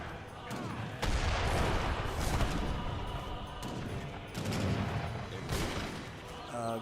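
Repeated gunshot volleys from armored pistoliers in Age of Empires ring out over a dense, continuous battle din of clashing units, with a commentator talking throughout.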